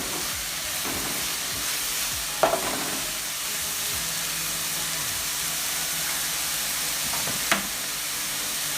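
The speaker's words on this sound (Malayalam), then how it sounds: "ഇത് നന്നായി ഇളക്കണം" Raw chicken mixed with salt in a bowl, giving a soft, steady wet churning and scraping with a couple of sharper knocks against the bowl, close and quiet, with no talking.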